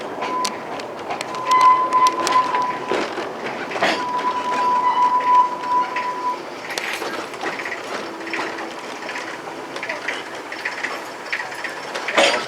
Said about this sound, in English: it's the classic Sittingbourne and Kemsley Light Railway whistle and horn battle